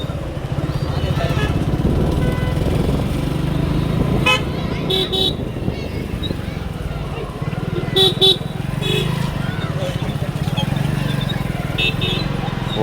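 A sensor-equipped motorcycle's engine runs steadily at close range, with a few brief horn toots on top and people talking throughout.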